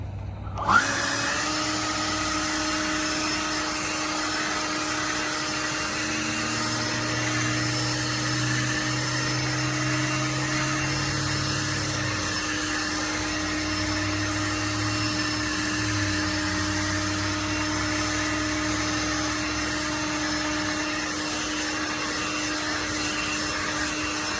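Kobalt 40V backpack leaf blower running steadily with the turbo button engaged, a loud continuous whine with a strong tonal hum that starts abruptly and holds close and even throughout, with slight swells in the low drone.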